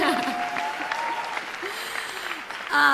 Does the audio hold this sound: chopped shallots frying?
no